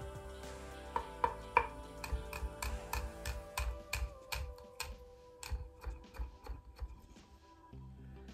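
Knife mincing one fresh garlic clove on a board, a fast run of sharp, close chopping taps with uneven rhythm that thins out toward the end.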